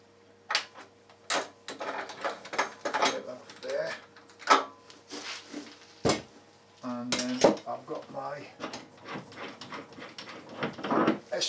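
Metal jaws being swapped on a woodturning lathe chuck: scattered clinks, taps and scraping clatter of metal parts at close range, irregular and fairly quiet, with a few brief voiced sounds mixed in.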